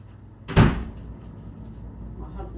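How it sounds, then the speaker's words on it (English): A door is shut indoors in a home, giving one sharp, close thud followed by quiet room tone. "I'm just going to shut the door."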